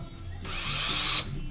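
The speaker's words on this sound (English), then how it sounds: "I'm going to put a little drill bit through there first" A power drill with a small bit whirs loudly for under a second, a high grinding whine as the bit bites into a metal casting on a Bridgeport mill, then cuts off; close by.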